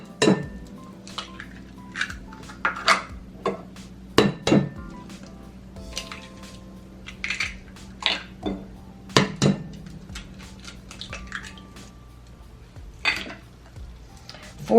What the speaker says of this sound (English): I'm gonna put the eggs in first.